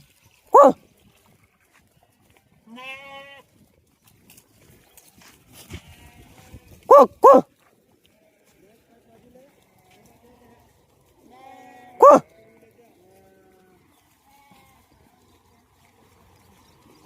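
Sheep come to water in a village, bleating a few times, loud and close, with long quiet stretches between the calls and faint outdoor sounds in the gaps.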